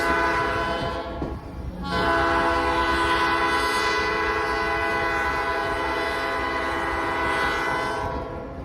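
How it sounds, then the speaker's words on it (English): A loud, sustained diesel locomotive horn blares close by during an NKP 358 Autumn Limited excursion, holding a rich chord with a brief dip before continuing steadily, then fading at the end. "The other diesel was honking too."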